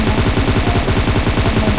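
Rapid sustained automatic fire from an M4 rifle in PUBG, a loud continuous burst of evenly spaced shots with no pause.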